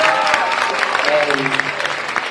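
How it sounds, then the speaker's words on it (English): An audience applauds the mayor at a Yonkers award event, with continuous close clapping running under a speaking voice for the whole short stretch. "let's give him a nice round of applause"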